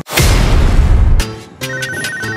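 Incoming-call phone ringtone, loud and close: a sustained burst followed by repeating electronic ring tones, heard alone without talk.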